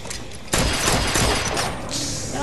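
Erron Black's gunshots ring out in a Mortal Kombat fighting game match, a loud burst of rapid fire that erupts suddenly and sustains for over a second before tailing off.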